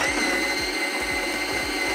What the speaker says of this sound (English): we're gonna grind 18 grams. Okay. Put the dosing cup in and grind